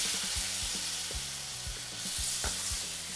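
Braised pork stirred in a pan with sugar and sake, a continuous bubbling sizzle with a spoon scraping and clacking against the pan in uneven strokes, close and without speech.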